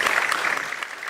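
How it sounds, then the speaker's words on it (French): Audience applause for an award winner at an academic prize ceremony, a brief burst of clapping with steady loudness and no speech. "Je ne l'ai pas dit encore, mais vous pouvez l'applaudir."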